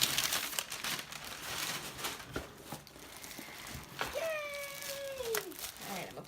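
Protective paper crinkles and rustles in bursts while a photo studio backdrop is unboxed, close and fairly soft, with a high whining squeak near the end and no talk.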